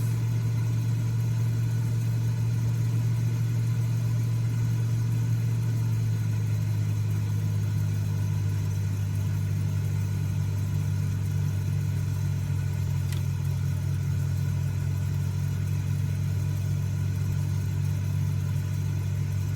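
Cessna T206H bush plane engine in a flight simulator game drones steadily at a low, heavy pitch, a constant near hum with no voices over it.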